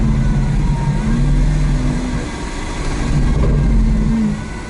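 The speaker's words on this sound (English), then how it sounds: "Those overrun burbles." A Lamborghini engine in sport mode burbling and popping on overrun after a downshift, heard from inside the cabin as a loud, uneven low rumble that swells and fades.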